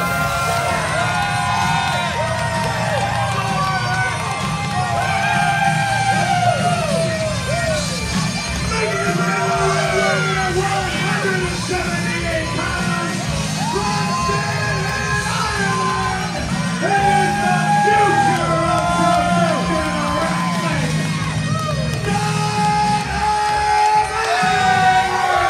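A wrestling crowd in Edmonton shouts, whoops and cheers as a wrestler comes through the curtain, a loud sustained roar of many voices rising and falling throughout.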